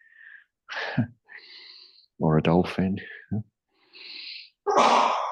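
A person sneezes during a guided yoga session, one sharp sneeze early and another near the end, with a calm instructor speaking between them.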